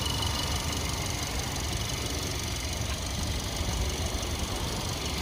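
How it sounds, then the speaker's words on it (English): A 2022 Kia K5 turbocharged four-cylinder engine idling steadily nearby, a constant rough hum with faint knocking texture throughout, no voices. "It's kind of a noisy engine."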